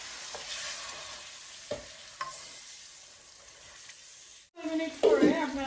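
Taro roots fry in curry spice paste in a pan, faint sizzling and scraping stirs under light background noise, then a louder clatter of stirring near the end.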